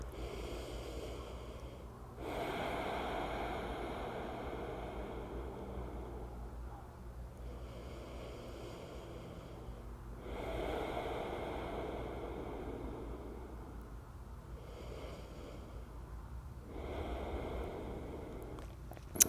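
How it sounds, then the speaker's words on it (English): Slow, deep breathing during a myofascial release session: three long, loud inhale-exhale cycles, close to the ear, each lasting several seconds, separated by quieter pauses. "Let's take 3 big breaths."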